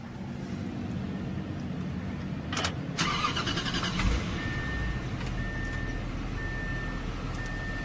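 A Bentley Mulsanne Mulliner's twin-turbo V8 starts via a push-button ignition, with a short sharp burst of sound followed by a steady idle over a constant background hum, and a faint tone recurring toward the end.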